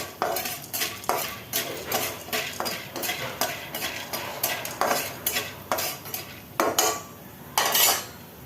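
Food goes into hot oil with salt in a pan and is lightly fried, with a utensil scraping and clanking against the pan in a steady rhythm over a faint sizzle.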